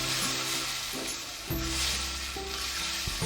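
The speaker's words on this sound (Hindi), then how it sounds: "और इसको मैं अच्छी तरीके से पहले भूनूँगा" Masala with pickle sizzles and fries in a pan for achari chicken curry, a steady close hiss broken by scraping strokes of a spoon stirring it through.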